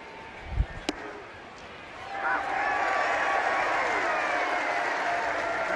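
Baseball stadium crowd at a Royals–Rangers game in Texas, a swelling mock cheer for the home-plate umpire that rises after a couple of sharp knocks and holds as a broad, steady roar.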